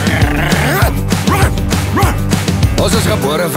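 A dog barks and yips repeatedly in a loud, busy mix, the rhythmic barks woven into singing voices and music from an Afrikaans song.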